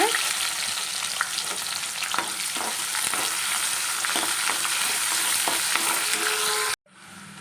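Curry leaves and onions fry in a pan for a cluster beans and dried fish curry, a loud continuous close sizzle with scattered stirring clicks, ending in an abrupt cut near the end.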